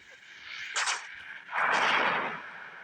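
Two sharp video-game gunshots, the second with a longer booming tail, ring out close and loud over a steady background hum with no voices.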